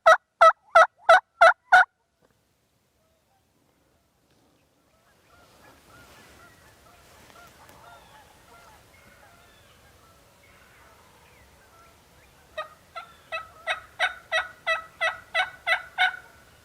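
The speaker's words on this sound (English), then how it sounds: "Heard more gobbling in 5 minutes than I have all year." Wild turkeys gobble outdoors during spring turkey season, a quick run of loud rolling gobbles, then a quiet stretch with faint distant calls before another long series of gobbles builds near the end.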